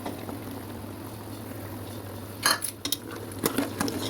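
A spoon scrapes and clinks against a pot while mutton trotters roast with masala, a few short metallic stirring sounds over a quiet low hum.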